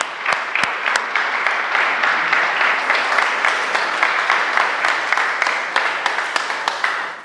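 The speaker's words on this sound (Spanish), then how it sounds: "Un aplauso." A church congregation applauds loudly and steadily through a live Sunday service, a dense wash of many hands clapping together with sharp individual claps standing out.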